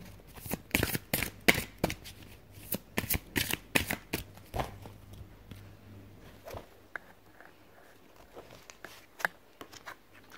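A deck of oracle cards being shuffled by hand, crisp riffling bursts coming quickly at first, then sparser soft flicks and taps, close and fairly quiet with no talking.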